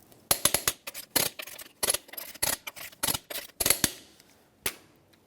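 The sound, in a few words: torque wrench clicking while torquing lug nuts on Ford F-150 wheel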